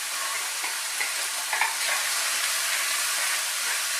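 Diced mirepoix frying in a pan over high heat, a loud, dense, continuous sizzle with faint stirring scrapes, close and without speech.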